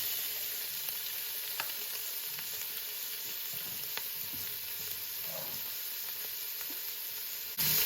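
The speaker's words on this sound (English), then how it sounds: "So now the oil has heated up, we're going to be adding the beef and the bacon." Beef frying in hot oil in a pot for a beef and bacon stew, a steady, even sizzle with a few faint clicks and stirring sounds, no talking.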